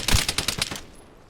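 SVU rifle fire in the video game Vigor, a rapid burst of about eight sharp, close shots in quick rhythm, fading into quiet.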